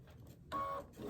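A sewing machine stitching down a diagonal seam through fabric and batting on a child's quilted gift, a steady mechanical whir that swells loudly for a short burst in the middle, with quieter machine noise before and after.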